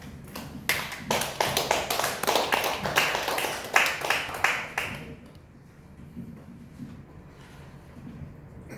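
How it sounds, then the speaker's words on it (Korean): Audience applause greets a guest lecturer at a Confucian ritual lecture, a dense burst of clapping that fades after about five seconds into quiet room tone with a few scattered claps. "그럼 강사님을 큰 박수로 모시겠습니다."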